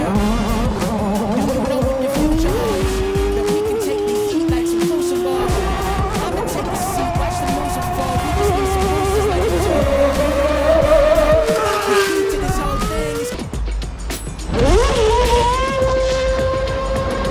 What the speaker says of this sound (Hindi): एक F1 कार को, जो कि एक रेसिंग कार होती है, उसे एक नॉर्मल सिटी में दौड़ाया जा रहा है।